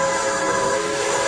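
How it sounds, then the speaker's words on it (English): A train whistle, or the loud continuous roar of a passing train, fills the whole short stretch at an even level with no gaps and no speech. "I thought I heard the train whistle over there."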